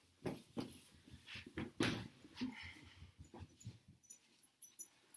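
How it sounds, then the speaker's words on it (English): A pet dog whimpers and whines in a home during a lower-back mat workout, several soft, breathy whines spread over a few seconds, fairly near with quiet room noise around. "here's my adorable dog, Carver"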